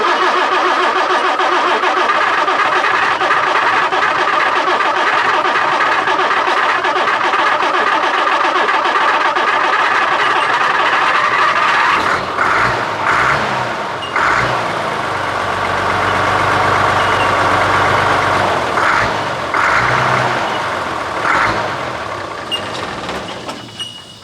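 An Albion Clydesdale truck with an LAD cab idles close by, a steady mid-pitched engine rumble that roughens and deepens with a few louder bursts partway through before easing off.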